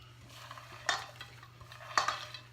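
A spoon stirs a vegan Waldorf salad of quartered walnuts in a bowl, giving faint soft scraping with two sharper clinks of metal against the bowl about a second apart, quiet and alone.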